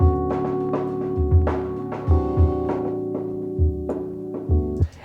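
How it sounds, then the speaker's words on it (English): Music run through low-pass and high-pass EQ filters for a muffled club feel, with a steady sustained chord and thumping low beats, band-limited and dull, alone without talk. "achieved by having a low pass and a high pass filter engaged and kind of making it sound like this."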